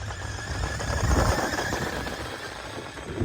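A radio-controlled car on square wheels makes a speed run, giving a loud, near, rough buzzing whine with rattling texture that swells in the middle and holds steady to the end.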